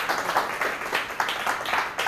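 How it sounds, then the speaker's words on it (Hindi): A church congregation claps for God during a sermon service, moderately loud with rhythmic surges of many hands and no voices over it. "खुदावंद के लिए जोर से ताली बजाएंगे"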